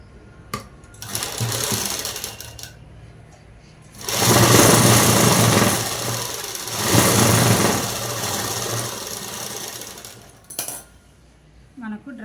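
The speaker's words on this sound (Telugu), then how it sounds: "ఇప్పుడు ఈ రెండు పట్టుకొని కొంచెం అనేది కుట్టు వేసేసుకుంటాం." A sewing machine stitches a black dress in long loud whirring runs broken by short pauses and a few clicks, close and steady, with faint talk in the background.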